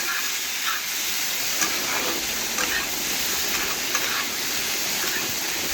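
Potatoes and onions sizzle in a pan with salt added, giving a steady, even hiss while being stirred, with faint scraping ticks scattered through it.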